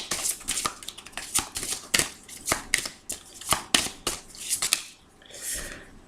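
Tarot cards are shuffled close up for a reading, a rapid series of crisp riffles, slaps and rustles over several seconds, ending in a softer sliding swish.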